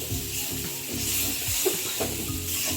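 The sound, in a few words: tomato sautéing in pan for paneer ghugni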